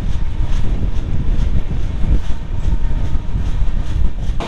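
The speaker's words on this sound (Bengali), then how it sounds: "নিউ দিল্লি শিয়ালদা রাজধানী এক্সপ্রেস দুর্গাপুরের 3 নম্বর প্ল্যাটফর্মে এসে দাঁড়িয়েছে" The Sealdah New Delhi Rajdhani Express stands at platform 3 at Durgapur, giving a loud, steady low rumble with faint rhythmic rattles of the coaches and no voices.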